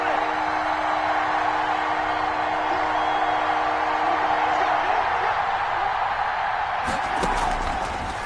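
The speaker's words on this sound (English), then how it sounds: "the crowd getting into it as we come up on a big 3rd down" A stadium crowd roars steadily in an American football video game, a dense sustained wash of cheering ahead of a big third down.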